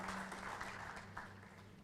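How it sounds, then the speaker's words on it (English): Audience applause at a meeting, a brief patter of clapping from a room of members that fades slightly over under two seconds. "another round of applause for Josiah."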